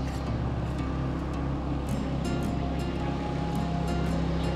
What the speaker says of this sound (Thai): มีเรือหางยาวกำลังวิ่งผ่านมาพอดีเลยครับ